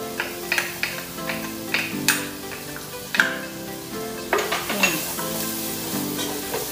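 Minced garlic and ginger frying in a hot pan, a steady sizzle broken by repeated scraping and stirring clicks of a utensil against the pan.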